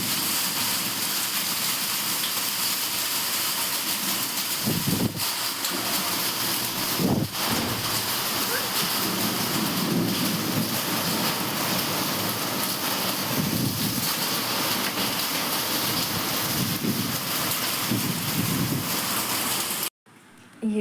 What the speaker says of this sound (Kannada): ಈಗ ನೋಡ್ರಿ ಮಳೆ ಬರಕತ್ತೈತಿ